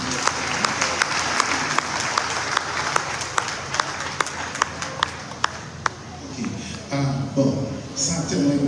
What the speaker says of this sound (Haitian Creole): On a applaudi délégation